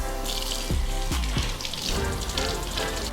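Crawfish and seafood-boil ingredients get a quick rinse under a running kitchen tap, with steady close water flow and several soft splashes and knocks as the food is moved in the stream.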